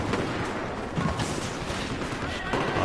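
Enemy machine-gun fire in the video game Battlefield 4: dense, chaotic bursts of shooting and explosive cracks fill the whole stretch, loud and continuous with battlefield noise throughout.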